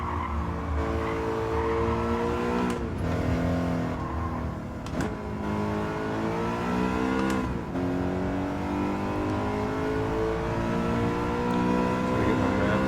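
A BMW race car laps the Autopolis circuit in a racing game, its engine holding a steady droning whine that rises and falls with shifts, with occasional tire squeal and brief clicks.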